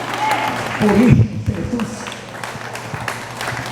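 Congregation applause at an El Shaddai worship gathering, a burst of clapping building under a preacher's amplified voice, then fading as he continues speaking.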